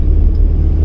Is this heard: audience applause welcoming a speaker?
no